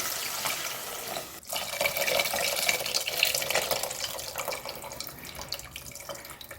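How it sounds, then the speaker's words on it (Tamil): Tamarind water being poured into a cooking pot, a continuous splashing liquid stream with a brief break near the start, then steady trickling and bubbling close by, fairly quiet overall. "ஒரு பெரிய நிலைக்கு அளவு புளி கரைச்சி வச்சுருக்கிறேன் ஊற்றிக்கலாம்"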